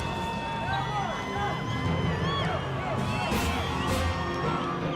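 Spectators cheer at the 2019 South African Saddlebred Championships horse show, a lively crowd din full of whoops and rising whistles over a busy background of voices.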